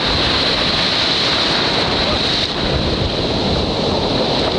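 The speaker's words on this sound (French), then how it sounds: "regardez ces vagues incroyables" Large ocean waves, reportedly around fifteen metres high, crash and roar continuously at the Costa Rica Cup surfing final, with heavy wind buffeting the microphone in a dense, unbroken wash of surf.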